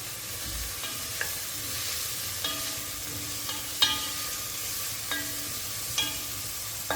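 Curry leaves sizzle in hot oil in a pan for a Kerala-style chicken stew, a soft steady frying hiss broken by occasional light clinks of a spoon stirring, close and quiet with no talk.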